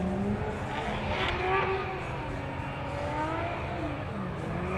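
Subaru BRZ drift car engine at a Formula Drift event in Texas, a distant, steady droning rev carried over broad crowd and track noise, rising and falling slightly without sharp peaks.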